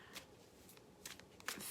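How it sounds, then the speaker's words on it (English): Deck of playing cards being shuffled, a few quick riffling bursts spaced apart, soft and close with low background hiss and no talking. "I'm going to keep shuffling."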